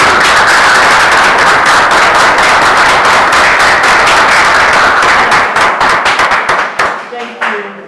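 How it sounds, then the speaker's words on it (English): Hands clapping in steady applause at a chemistry lesson on allotropy, a dense continuous patter that thins out and fades near the end. "I had to hold myself from clapping"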